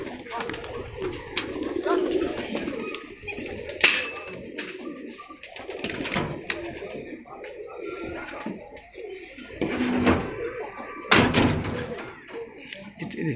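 Loha breed pigeons released inside a loft coo repeatedly amid wing flutters and a couple of sharp door-like knocks, with people talking now and then in the background.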